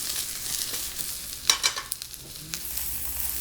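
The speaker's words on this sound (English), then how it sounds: "In goes the mushrooms. And I'm going to saute these over high heat the whole time" Mushrooms sauté in soybean oil over high heat, a close steady sizzle with a couple of sharper crackling bursts as they are tossed and stirred in the pan.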